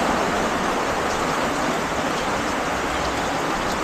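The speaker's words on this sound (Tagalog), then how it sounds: "Guys, naulan." Rain pours down outdoors as a steady, dense hiss with no pauses or separate drops, loud and even for the whole stretch and free of any voices.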